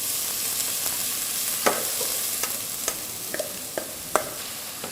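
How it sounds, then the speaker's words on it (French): Onions sweating gently in olive oil in a pan for a scallop risotto, a soft continuous sizzle broken by several sharp clicks of a utensil stirring against the pan. "Les oignons qu'on va faire suer sans coloration"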